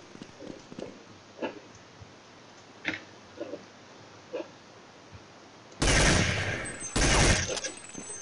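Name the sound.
gunfire in video game Counter-Strike 1.6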